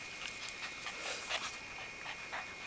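A female dog pants close by in quick, soft, breathy bursts that repeat rhythmically, fairly faint against a quiet room.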